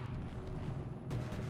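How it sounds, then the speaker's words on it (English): Explosions in the shooter game Totally Accurate Battlegrounds, a dense low rumble of booming blasts that keeps going throughout, with a louder surge near the end, no speech. "There's explosions there."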